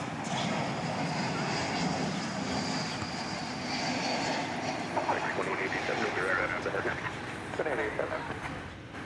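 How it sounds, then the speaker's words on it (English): An American Airlines Airbus A321 arriving at DFW airport from San Francisco, a steady jet engine rush heard at a distance, with tonal whine and some background voices in the later part. "We have an American Airlines flight arrival now from San Francisco. It's an Airbus A321,"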